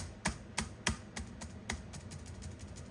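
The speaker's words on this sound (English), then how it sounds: "you get that sort of badly stabilized keyboard sound" Keys on a vintage Dell Inspiron laptop with poorly stabilized keys clack in a slow, uneven series of rattly taps, several sharper strokes early then lighter ones, close and fairly quiet, with no speech.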